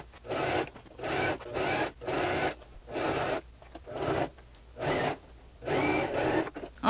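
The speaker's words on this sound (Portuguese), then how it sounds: "Vou costurar aqui primeiro para depois baixar." A sewing machine stitches a jacket pocket in short repeated runs, each a close whirring burst of rapid needle chatter separated by brief pauses, about eight bursts in a steady rhythm.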